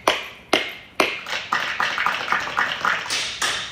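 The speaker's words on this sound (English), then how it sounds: "Clap it up, Bakim" Single sharp claps ring out slowly at first, then quicken into a steady rhythmic clapping, moderately loud and close, with no talking over them.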